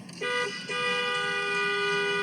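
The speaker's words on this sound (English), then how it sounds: "she honks outside of his house" A car horn sounds outside a house as a passing driver honks: a short toot, a brief gap, then a long sustained blare that fills the rest of the moment.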